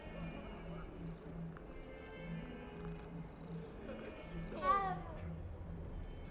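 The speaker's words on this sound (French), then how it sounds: "Là, il y a un chat." A cat meows once in the video game Hogwarts Legacy. The meow is short and fairly clear over quiet game ambience and a low repeating hum, and a person talks around it.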